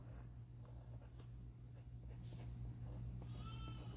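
A Montblanc Meisterstuck fountain pen with a wet nib writes on paper, giving soft, scratchy strokes in short bursts against faint background hum.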